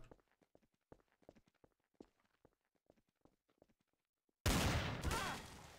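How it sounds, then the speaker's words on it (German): Burst of muffled gunfire through a wall in the game Trouble in Terrorist Town, breaking out suddenly and loud after a stretch of quiet footstep-like taps, then fading over a couple of seconds. "Lo, hast du durch die Wand geschossen?"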